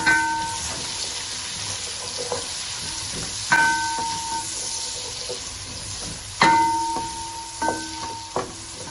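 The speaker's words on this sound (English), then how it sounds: "I want to fry the onion about 2 to 3 minutes" Chopped onion frying in a pot for Ghana jollof with a bay leaf gives off a steady close sizzle, broken by several sharp clinks of a utensil against the pot while it is stirred.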